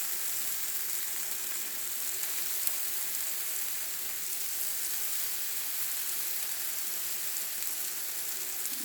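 Vegan birria tacos fry on a hot griddle with a steady, dense sizzle that holds at an even level throughout, close up and with no talking.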